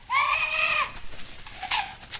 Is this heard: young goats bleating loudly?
yes